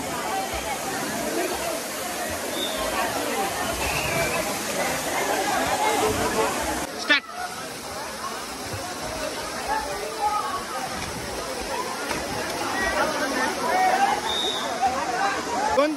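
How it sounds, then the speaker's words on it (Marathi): Water pours down a waterfall in a continuous broad rushing roar, with the chatter of a busy crowd of visitors in safety jackets mixed in throughout. "बघा वरून पण पाणी चालू आहे."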